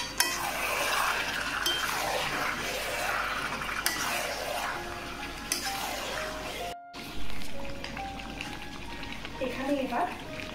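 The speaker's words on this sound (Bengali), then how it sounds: "এবার চিকেনটাকে ভালো করে একটু কষিয়ে নেব।" Marinated chicken being stir-fried in a pan for a spicy oily Bengali curry, with steady sizzling and scraping utensil clinks throughout, some tones and a brief gap midway.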